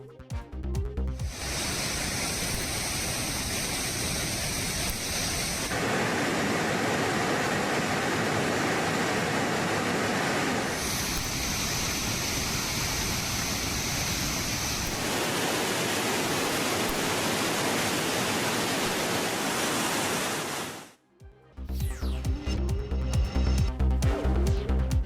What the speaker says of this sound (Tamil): கோவை குற்றாலம் அருவியில் வெள்ளப்பெருக்கு ஏற்பட்டுள்ளது